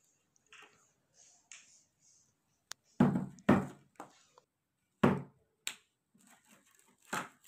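Sharp pops, clicks and thunks from opening a sealed, well-packed jar of mixed fruit jam, close and distinct, arriving as isolated bursts separated by quiet.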